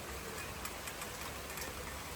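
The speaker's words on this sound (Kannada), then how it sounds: "ಬೆಂಗಳೂರಲ್ಲಿ ನಮ್ಮ ಏರಿಯಾದಲ್ಲಿ ಮಳೆ ಬರ್ತಾ ಇದೆ." Rain falls outdoors in a Bengaluru neighbourhood on a sunny day, a faint, steady hiss of drops with no voices.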